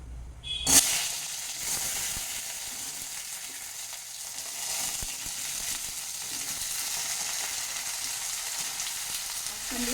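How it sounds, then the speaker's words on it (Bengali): Winter vegetables, pumpkin, potato and slit green chillies, sizzle and crackle steadily in hot oil, with a brief clatter as they go into the pan, then a continuous close frying hiss for the rest. "এবার সমস্ত সবজিগুলোকে আমি এই তেলের মধ্যে দিয়ে দেবো"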